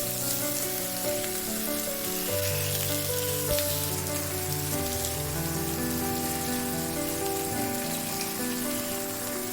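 Tofu fries in a generous layer of cooking oil in a pan, giving a dense, continuous crackling sizzle like heavy rain that holds steady from start to finish.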